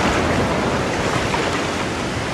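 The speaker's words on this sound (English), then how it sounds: "And the waves are high, and there's still people out there surfing and everything." Large December surf breaks on a Florida beach, a loud, continuous wash of churning water that stays steady and close, with no voices.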